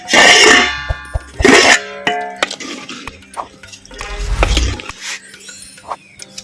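Metal lid set onto a pot of gooseberries boiling on the stove, giving a few loud clanging, ringing knocks near the start, followed by quieter metallic rattles and faint bubbling.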